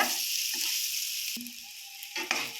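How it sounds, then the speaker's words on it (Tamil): Ginger and garlic sauté gently over low heat in a pan for a chow chow curry, giving a soft, steady sizzle with a few brief stirring scrapes throughout. "இப்போது இஞ்சி பூண்டெல்லாம் போட்டு வதக்கியாச்சு."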